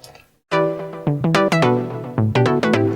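Short plucky sawtooth synth notes with a buzzy, slightly detuned pitch attack at each onset, played in a quick melodic sequence with no voices.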